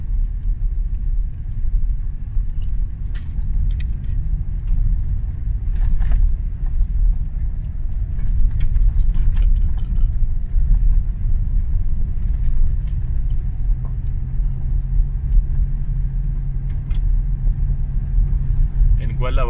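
A car driving over a rough road in Wadi Al Arbyeen, Oman, a loud continuous low engine rumble heard from inside with bumps and rattles, and occasional voices talking over it.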